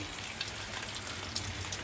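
Rain falls steadily with a dense, even hiss and scattered droplet taps, no voices present.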